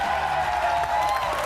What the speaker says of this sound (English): Keep the applause going, Fletch and Heine.